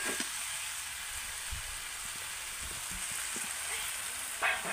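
Jackfruit and potato sauté in a pan with a steady, soft broadband sizzle throughout, faint scraping stirs now and then and a brief louder stir near the end, no voices.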